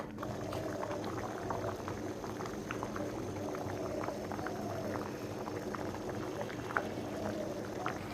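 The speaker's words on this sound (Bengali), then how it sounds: "এবার পানি দিয়ে দিচ্ছি। এখন বলক ওঠা পর্যন্ত অপেক্ষা করি।" Water for khichuri with peas and vegetables bubbles in a pot, a soft steady boil with small popping bubbles and gentle burbling, quiet and even throughout.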